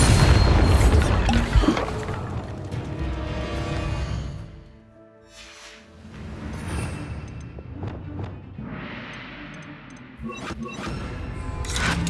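In the game Hogwarts Legacy, the Bombarda spell's explosion opens with a loud, deep boom that rumbles and fades over several seconds. Sharper game effects and brief voices follow.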